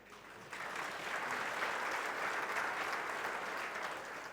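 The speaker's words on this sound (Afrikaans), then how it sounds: "Divan, jy kan gou op jou stoel staan dat ons vir jou hande kan klap." A church congregation claps steadily for a birthday, a dense, even patter of many hands that starts abruptly and holds at moderate loudness for several seconds with no talking.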